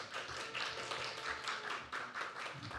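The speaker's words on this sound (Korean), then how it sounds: "박수 한번 하겠습니다" A church congregation claps together to welcome a new choir member, a dense, even patter of many hands that sounds soft and somewhat distant, continuing without a break.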